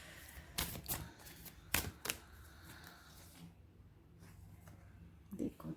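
Tarot cards are pulled from a deck in a few quick papery flicks and slides, close and soft, with a quieter pause between bursts and a faint background hiss.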